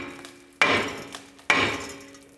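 Two sharp, loud hammer blows strike the back of a Ford Focus front brake rotor to break it loose, each a metallic bang with a short ringing decay, spaced about a second apart.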